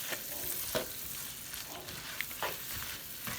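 Louisiana-style shrimp sizzle in a pan over high heat, a soft steady frying hiss broken by several scraping stirs, close and fairly quiet with no talk.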